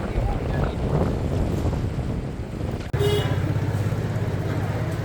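Wind and waves on the North Atlantic Ocean shore in Morocco: a constant rough rush of surf with wind buffeting the microphone, changing abruptly partway through to a steadier, heavier roar.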